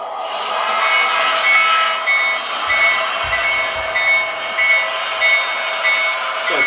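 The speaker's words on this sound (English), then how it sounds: "See, those 3 locomotives really want to take off from the one." Three model train locomotives run on a layout with a steady, close whirring rumble, while a repeating electronic beep pulses evenly through it.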